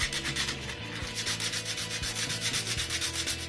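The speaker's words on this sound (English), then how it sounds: "When they are dry enough, I sand the curve" Sandpaper rubs the curved edges of wooden cremation urn pieces in a steady, close back-and-forth rhythm of repeated scratchy strokes.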